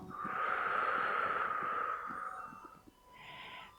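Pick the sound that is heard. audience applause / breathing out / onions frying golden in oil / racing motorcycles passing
breathing out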